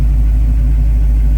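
A 1932 Ford Roadster hi-boy hot rod with a steel body and a 350 V8 idles loud and close, a steady deep rumble with no talk over it.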